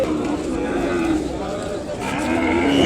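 An Ongole calf at a cattle market in Kodada gives a couple of low, drawn-out moos that mix with market chatter and voices around it.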